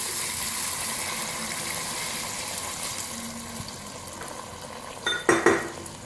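Pan of fried chickpea pulao masala sizzling steadily, then water poured in near the end, bringing a sudden loud splash and bubbling hiss with some clinks of utensils.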